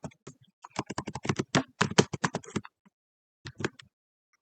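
Fingers type on a computer keyboard in close, crisp bursts of clicking keystrokes, a fast run followed by a pause and a few final taps, with no talking.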